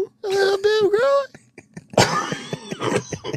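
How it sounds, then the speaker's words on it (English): A single cough breaks into a song recording after a sung vocal phrase, a short harsh burst followed by more voiced sounds. "I knew the cough was coming."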